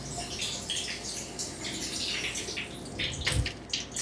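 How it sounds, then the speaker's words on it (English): Cold tap water runs over food being rinsed for a pasta salad, producing a continuous irregular splashing and hiss with small bursts of spatter, close and moderately quiet, with no talk. "So I'm just rinsing up under cold water."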